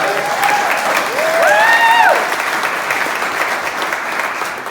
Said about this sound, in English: Give Rachel a round of applause.